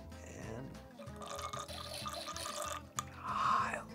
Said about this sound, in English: let's do a little Bernoulli's principle. Here we go. Get ready for the gurgle.